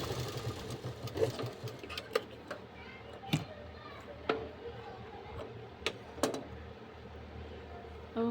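A sewing machine runs steadily, stitching the shoulder seam of a kurti, with a soft continuous whir broken by occasional sharp ticks and clacks from handling the cloth, quiet and close with no talk.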